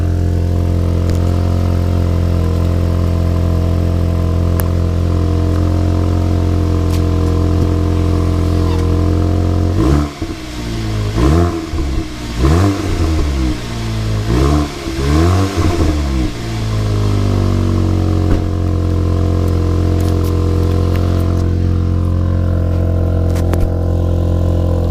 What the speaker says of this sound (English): I'll leave the mic here and give it some gentle blips.